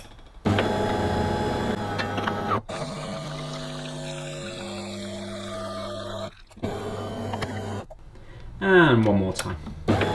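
A De'Longhi Magnifica coffee machine runs a rinse cycle, its pump humming steadily while water runs through, with brief pauses between runs and someone speaking briefly.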